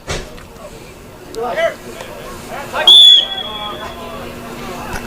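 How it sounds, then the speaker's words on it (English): A referee blows a whistle at a men's college soccer match, Farmington Knights versus Perryville Pirates, one sharp piercing blast after a few faint chirps, heard above crowd murmur and distant shouts on an outdoor field. "Another whistle."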